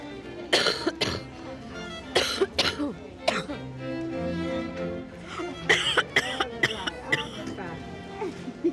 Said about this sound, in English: Did you say she's got a cough?